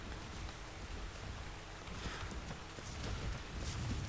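A creature's footsteps pad after the player in the video game Ark, faint soft footfalls in a quick irregular rhythm against a quiet ambient background.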